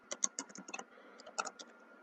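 Computer keyboard keys clatter in quick, close bursts of light taps as code is typed, with a short pause in the middle before another run of keystrokes.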